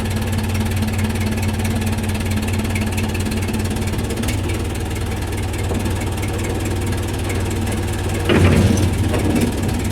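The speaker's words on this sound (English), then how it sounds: "That's at idle, folks." A Case 580B backhoe diesel engine idles cold just after starting, a steady loud chugging drone with a loose steel line rattling throughout and a brief louder clank near the end.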